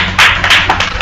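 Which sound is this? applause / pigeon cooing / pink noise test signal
applause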